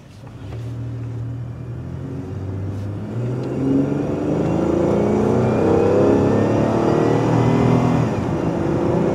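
A car engine warming toward operating temperature revs up, its rumbling drone rising and holding loud and close, with no voices.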